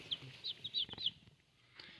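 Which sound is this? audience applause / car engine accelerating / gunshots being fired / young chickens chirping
young chickens chirping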